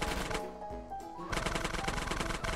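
Rapid bursts of gunfire in GTA San Andreas, shots aimed at police, crackling loud and close in dense volleys over a steady game music bed, with a short lull midway before the firing resumes.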